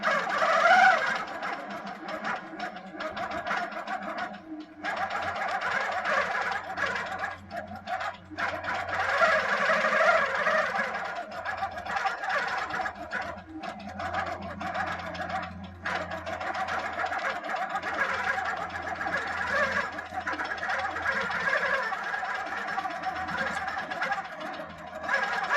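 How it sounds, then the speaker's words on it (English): A quilting sewing machine stitching slowly with thick Glide thread, producing a steady mechanical whirring hum with rhythmic needle ticking that continues throughout at a moderate level. "it's going to start sewing just slowly"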